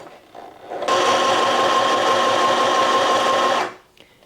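A sewing machine stitches a short seam on a drawstring bag, running in one continuous burst of about three seconds with a rapid steady whir and needle chatter. Softer handling noises come just before and after it.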